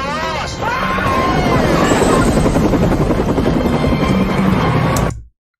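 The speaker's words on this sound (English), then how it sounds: "She was about to run through that helicopter, man." A helicopter in a movie scene thunders loud and close, with steady rotor chop and whine running nonstop for several seconds under a babble of voices before cutting off sharply.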